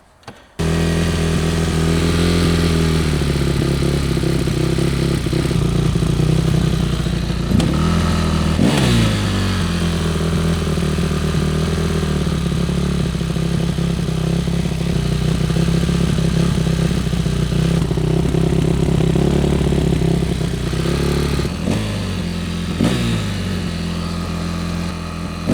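A Yamaha motorcycle with a faulty clutch fires up and keeps idling loudly and close, a steady rumbling engine note broken by a few brief throttle blips and clatters, with no speech.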